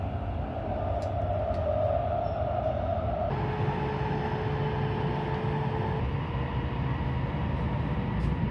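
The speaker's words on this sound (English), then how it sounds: "While the train is still in the tunnel" A steady, dense rumble of a train moving through a tunnel on the Urumqi to Beijing line, with a constant roar and faint tonal whines shifting partway through, no voices.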